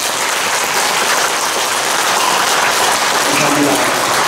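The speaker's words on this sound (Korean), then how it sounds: "백종원 국회의원님에게 다시 한번 심장 박수 부탁드립니다" An audience at a lecture on filial piety claps for a National Assembly member: thick, continuous applause held at full strength from start to finish, close and loud, with no talk on top.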